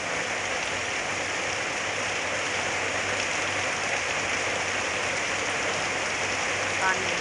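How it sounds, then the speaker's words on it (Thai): Heavy storm rain pours over a forest at night in Thailand, a constant, dense roar of falling water at a steady level with no breaks. "พี่น้องได้ยินจะเสียงฝนทั้งฝนทั้งป่า"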